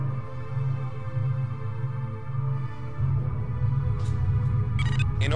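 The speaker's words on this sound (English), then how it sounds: "The sound you heard indicates the cargo container has been inspected." Cargo container inspection in the FreeSpace space combat game: a steady low engine hum is followed near the end by short, bright electronic chirps that signal the completed scan.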